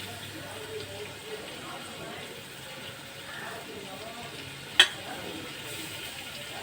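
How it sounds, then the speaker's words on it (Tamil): Mint leaves sauté in hot oil with a soft, steady sizzle, broken by a single sharp utensil clink partway through. "அப்படியே அந்த எண்ணெயிலேயே வதங்கிடணும்"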